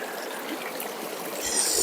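Water from a mountain forest stream flows in a steady, close trickling rush that swells slightly at the end, with no voices.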